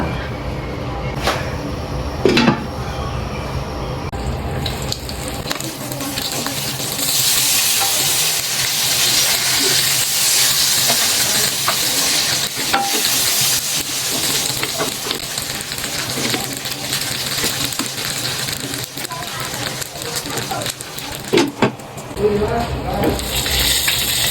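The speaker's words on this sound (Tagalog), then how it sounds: "Tapos, prituhin." Pork steak frying in a pan gives a steady, loud sizzle with occasional stirring and scraping, close up, while a person talks now and then.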